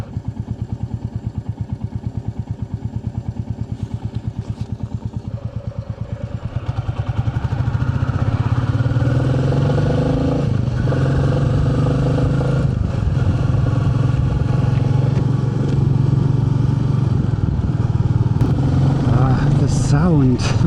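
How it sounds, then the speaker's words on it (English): Single-cylinder 350cc Royal Enfield Meteor 350 exhaust thumps at a steady idle, then rises into a louder, continuous rumbling drone as the bike pulls away, close and dominant, with a voice talking over it. "Even if it has just 350cc, the sound of the exhaust is really nice."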